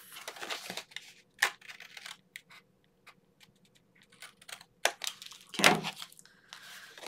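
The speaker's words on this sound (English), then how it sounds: "Then I can go ahead and fold this over and burnish it down." Paper folio being folded over and burnished down by hand, a few short crisp crinkles and scraping rubs in bursts separated by quiet gaps, close and fairly soft.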